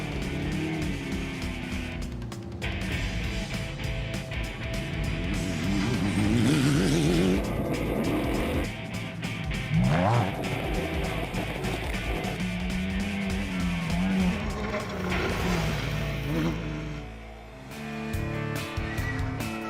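Race cars at speed on the Nurburgring circuit during a 24-hour endurance race, continuous loud engine roar with rising and falling revs as cars pass, no talk.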